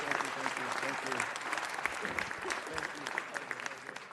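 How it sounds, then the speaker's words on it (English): Applause from the audience at a city council meeting, steady, moderately loud clapping filling the room, with murmured voices audible underneath and the clapping thinning slightly toward the end. "Let's give him a big round of applause."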